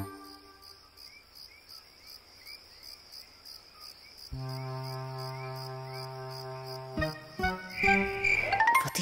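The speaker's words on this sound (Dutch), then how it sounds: "Dat zijn krekels, zegt Nijntje." Rhythmic cricket chirps pulse steadily in the background at night in a cartoon, joined midway by sustained tones and gentle tinkling sounds, fairly soft overall.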